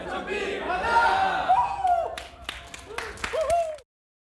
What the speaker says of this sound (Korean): 딜링룸에서 환호성이 터져 나옵니다